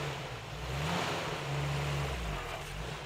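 A stuck vehicle's engine drones and revs steadily in a low hum while its wheels spin in place without gaining traction, a continuous loud whirring that rises and falls slightly.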